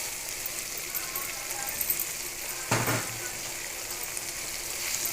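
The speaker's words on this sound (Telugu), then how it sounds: "ఇప్పుడు ఇందులో మనం ముందుగా ఫ్రై చేసి పెట్టుకున్న ఎండు చేపలు ఉన్నాయి కదా, ఇందులో వేసుకుందాం." Fried dry fish is added to a brinjal curry cooking on the stove, giving a steady, close sizzle with one brief louder splash of frying as it goes in.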